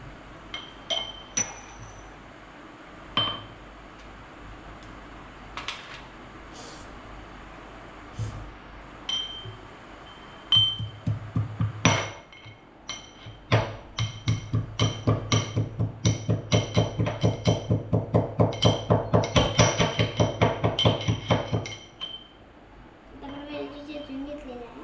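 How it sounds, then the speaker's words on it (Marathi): Cardamom pods are crushed for mango pulp, first a few scattered knocks, then a fast run of sharp, rhythmic pounding strikes, close and fairly loud, that stops near the end. "आता आपण वेलची चेचून घेऊया."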